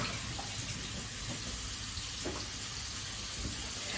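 Hands rinse under a running kitchen tap after handling raw venison, a steady rushing stream of water with faint splashes, sizzling food still audible beneath.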